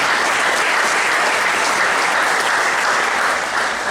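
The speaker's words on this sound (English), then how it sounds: "Round of applause for them," Dense, sustained audience applause at an awards presentation, steady and loud across the whole stretch with a crowd of many hands clapping, no voices standing out.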